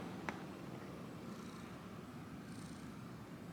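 A pet cat purrs softly and steadily, a faint continuous low rumble close to the microphone in a quiet indoor room, with one small click near the start.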